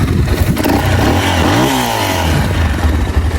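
A Geon X-Road 200 motorcycle engine, which has no kickstarter and starts only by the electric button, runs loudly close by with a rough clattering idle and a brief rev swelling up and settling back.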